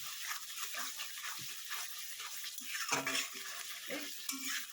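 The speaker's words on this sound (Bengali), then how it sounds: "এবার এটাকে একটু ভালো মতন কষে নেবেন।" Sag bora curry with tomato is sautéed in a pan, a quiet continuous sizzle with repeated scraping stirs of the spatula, close but faint.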